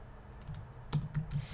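Soft, quick keystrokes on a computer keyboard, a handful of light clicks in close succession, faint and alone without talking.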